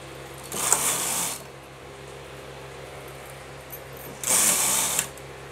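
A knitting machine working rounds of a lace design for a baby girl's dress makes two loud, close mechanical whirring passes with quiet pauses between them.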